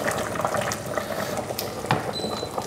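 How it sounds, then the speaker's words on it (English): Butternut squash soup with bouillon bubbling in a pot on low heat, a continuous dense burble of small pops and liquid sputters, close and steady throughout. "so it's just sort of bubbling away,"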